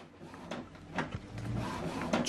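An Epson XP-4205 wireless printer initializing after ink cartridge installation, giving faint mechanical clicks, whirs and soft knocks from its internal carriage, quiet and close with no speech.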